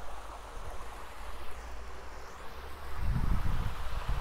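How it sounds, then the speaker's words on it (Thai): Waterfall in France pouring into a pool, a steady broadband rush of falling water that swells louder and deeper in the last second, with no voices. "เสียงน้ำตกเขาก็จะไหลมาตกสู่ตรงนี้จ้ะ"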